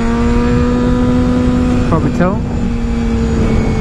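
A Honda CBR250RR motorcycle being ridden, its engine holding a steady high drone with a brief rising-and-falling shift in pitch midway, loud and continuous beneath someone speaking.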